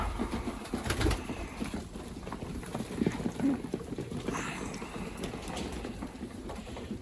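Pigeons eating and bathing in a breeder's loft: soft cooing and fluttering under steady wind and outdoor rumble, a voice talking over them at times.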